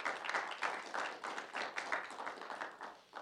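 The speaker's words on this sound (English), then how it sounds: "If we have a round of applause for him" A small audience at a college idea pitch competition claps in a brief round of applause, a dense, steady patter of many hands at moderate level with no talk over it.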